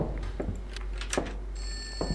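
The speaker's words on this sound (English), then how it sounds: "I think the phone is inside the next room." A telephone rings in a horror video game set in an abandoned school, sounding several loud, bright bursts spaced through the moment with a steady tone near the end, alone without talk.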